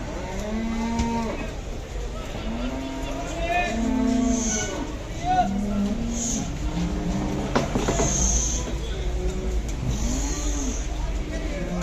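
Cattle mooing repeatedly at a livestock market in Ödemiş, Turkey, where a calf has just been born; several drawn-out calls overlap, near and loud, with someone talking over the herd throughout.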